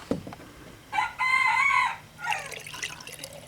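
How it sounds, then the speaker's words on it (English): A rooster crows once nearby, a loud drawn-out call preceded by a faint click and followed by a softer trailing note. "Thank you, Rooster. I needed your help"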